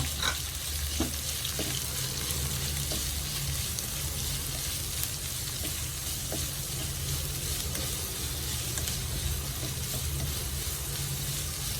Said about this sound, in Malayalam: ഇനി ഒന്നര സവാള അരിഞ്ഞത് കൊണ്ട് ചേർത്ത് കൊടുക്കാം ഇതെല്ലാം നല്ല ഫ്രൈ ആണ്